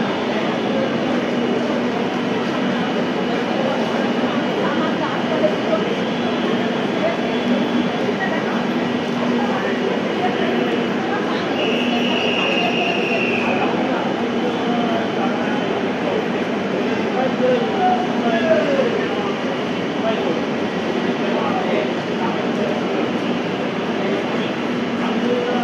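Kanchenjunga Express coaches, including the 2nd AC car, rolling past at a station platform: a steady, loud rumble and rattle of rail cars that lasts throughout, with faint background voices.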